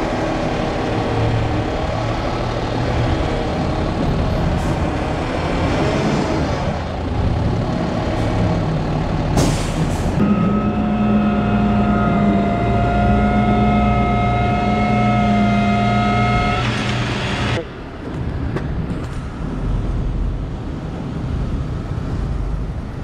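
An abandoned Avalon car is loaded onto a tow truck; a loud, steady engine drone runs throughout while a whining hydraulic hum rises and holds for several seconds in the middle, broken by clanks and a sharp hiss near the end.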